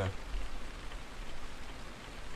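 Steady rain falls outside a mountain hut, a continuous broadband hiss of drops on surfaces that stays at an even level throughout, with no voices.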